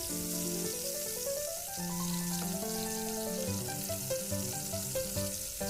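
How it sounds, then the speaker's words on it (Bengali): Pointed gourd pieces fry in hot mustard oil over medium heat, giving a steady sizzle under loud melodic background music. "সর্ষের তেলটা গরম হলে পটলগুলো দিয়ে মিডিয়াম আঁচে পটলগুলোকে লাল লাল করে ভাজতে হবে"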